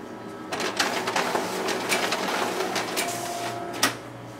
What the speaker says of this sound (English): now we'll go ahead and test out the document feeder on this machine